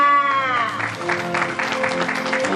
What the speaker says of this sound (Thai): ขอเสียงปรบมือดังๆนะคะะให้กับผู้สร้างภาพยนตร์จาก NGR ค ่ะ คุณบิมพาวภูตานนท์ค่ะ